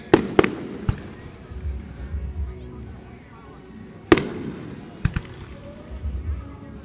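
Fourth of July fireworks in Mansfield, Texas burst at a distance, sharp cracks near the start and again around four seconds with softer booms between, while onlookers chat nearby.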